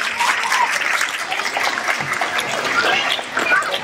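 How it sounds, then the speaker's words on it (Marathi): Children at a theatre workshop closing session applaud loudly together, a dense, sustained burst of clapping close by that stays strong throughout with faint voices mixed in. "जरा सगळे टाळ्या वाजवा जोरात."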